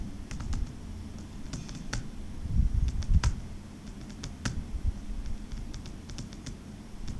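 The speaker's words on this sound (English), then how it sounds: "click on cell A9 and then we will type soundtrack CD" Computer keyboard typing during an Excel exercise, a run of light, irregular key clicks in short bursts with small pauses, close and fairly quiet, no voices.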